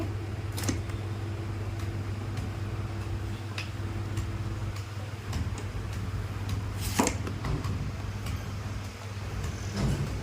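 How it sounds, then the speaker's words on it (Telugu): A mango-cutting machine slicing raw mangoes into pickle pieces runs with a steady low mechanical hum, broken by a few sharp chopping clicks and crunches near and moderately loud, with no talk. "మామిడికాయ ముక్కలు చూడండి ఫ్రెండ్స్ ఎలా కట్ అవుతున్నాయో ఈ మిషన్తో మామిడికాయలు కట్ చేసే మిషన్ అండి ఇది"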